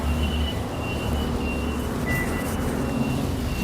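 A city bus on a street in Taipei, a low steady engine rumble with traffic noise and faint high electronic beeps, moderately distant and continuous.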